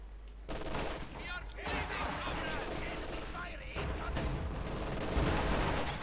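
Mortar and grenade explosions from a Company of Heroes 2 match, a dense, continuous barrage of booms and gunfire at steady loudness, with voices partly audible underneath.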